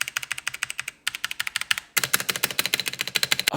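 Rapid, steady mechanical keyboard typing with sharp clicky keystrokes up close, pausing briefly twice before resuming at the same brisk pace.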